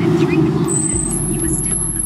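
An Aston Martin Virage being driven, heard from inside as a steady, loud engine and road rumble with people talking over it.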